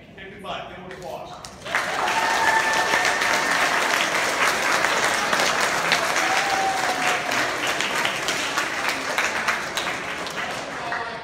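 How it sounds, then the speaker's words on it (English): A school assembly crowd applauds the volleyball team, starting abruptly after a short spoken line and rising to loud, dense, sustained clapping that fills the room, with some cheering and voices mixed in before slowly thinning. "Give them applause."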